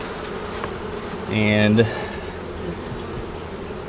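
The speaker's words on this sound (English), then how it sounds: "this is the most bees I've found on the bottom side of the top cover so far today" Honeybees at an open beehive on a farm: a low, steady hum, with one louder buzz swelling up close for about half a second before it fades.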